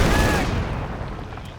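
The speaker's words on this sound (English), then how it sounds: "MG-42 preventing any direct approach here from Gentlefox" MG-42 machine gun fire in Company of Heroes 2: a loud, dense burst of rapid gunfire at the very start that decays into a rumbling tail, with no talk over it.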